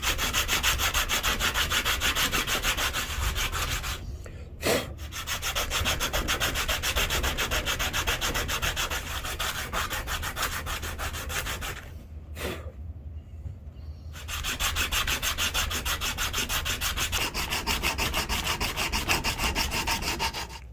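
A wooden-handled Marble's Nessmuk fixed-blade knife is sanded with abrasive wrapped on a wooden block, a steady close scratchy rubbing that runs almost continuously, broken by two brief pauses.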